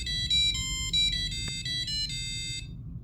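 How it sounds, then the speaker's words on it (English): An ESP32-driven buzzer plays a short celebration tune of bright electronic beeps in a quick, cheerful melody that stops abruptly after about two and a half seconds, with no voices. "Additionally, all the sounds you hear were separately coded using the buzzer"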